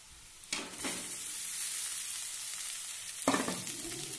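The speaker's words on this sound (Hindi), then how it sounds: "तो चलिए, अब हम डालते हैं राइस।" Vegetables fry in a pan as rice is tipped in and stirred, making a continuous close sizzling hiss with two sharper bursts as more goes in. No voices are heard.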